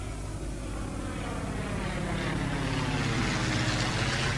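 Airplane in flight, a steady broadband engine roar and rushing air noise holding at an even loudness throughout, close and continuous with no talking.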